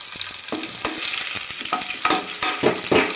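Cashews crackle and sizzle in hot oil in a pan for lemon rice, with steady frying hiss broken by repeated scraping clicks of a stirring spoon, close and moderately loud with no talking.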